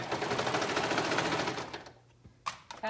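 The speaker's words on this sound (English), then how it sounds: "Okay, so we're sewing that around." A sewing machine stitching a neckband onto a garment runs in a loud, fast steady whir for about two seconds, then stops, followed by a few small handling clicks.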